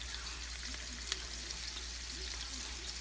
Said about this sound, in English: we're just going to fry these babies up